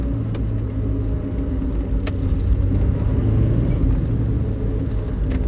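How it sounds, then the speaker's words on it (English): A Daihatsu Copen L881K cabrio shifting down on a sunny drive, with a steady mid-pitched engine drone and road rumble as it engine-brakes, fairly loud and close with a couple of brief clicks. "So now we start shifting down, and then we have some normal engine braking"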